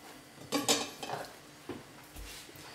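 Diced pork cubes tipped into a small cooking pot, giving a few close clattering knocks and metallic clinks as the pieces and utensil hit the pot, followed by a dull thump and quiet.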